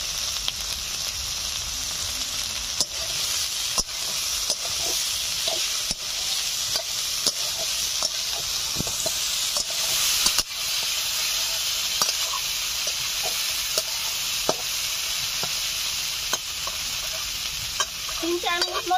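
Potatoes fry in a pan with a steady, loud sizzle, while a spatula stirs them in regular scraping strokes and knocks against the pan, all close up with no talking.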